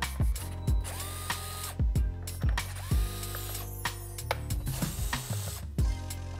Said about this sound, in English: First thing we're going to do is remove all four Fender Delete screws